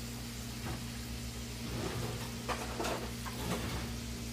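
Collard greens sautéing in coconut oil in a pan give a soft, steady sizzle with a few faint stirring scrapes over a low background hum, quiet and close, with no talking.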